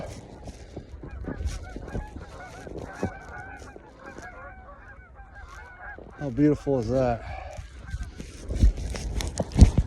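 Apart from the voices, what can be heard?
geese honking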